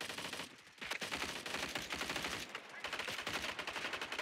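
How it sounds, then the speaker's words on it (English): Sustained bursts of rapid gunfire from a squad-based military shooter game, loud and dense with brief pauses, the shots raking a fence. "You literally are shooting the fence"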